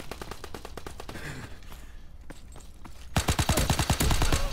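Rapid automatic gunfire from a weapon in the Call of Duty WWII beta, with dense bursts at the start, a quieter lull in the middle, then louder, heavier volleys at the end.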